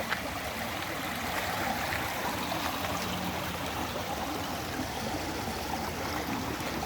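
Continuous rushing water fills the scene, a steady broadband roar of a waterfall without pauses, at the foot of a waterfall in Kanchanaburi, Thailand.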